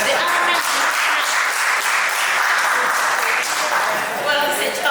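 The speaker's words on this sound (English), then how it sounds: "These are the only two men I saw clapping." Applause from a small group of men at a wedding court session, steady clapping lasting throughout, mixed with a voice talking over it.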